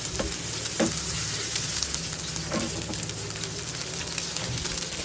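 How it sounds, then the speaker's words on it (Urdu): Chicken kebabs fry in a shallow layer of oil in a pan with a steady, fairly loud sizzle and scattered crackles and spits, with no voices. "یہ دیکھیں ہمارے کباب فرائی ہو رہے ہیں"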